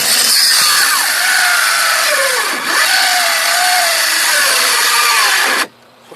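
A cordless circular saw rips a solid wood board lengthwise in half, a loud continuous high whine with a brief dip as the blade bogs in the cut, then stops abruptly near the end.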